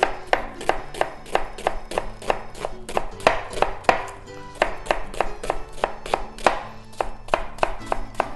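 A knife slices onion julienne on a cutting board for onion soup, rapid even chopping strokes, close and crisp, continuing steadily throughout.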